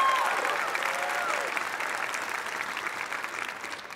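Congregation applause fills a Baptist church sanctuary, with scattered yells and whistles on top, steady at first and gradually fading at moderate volume.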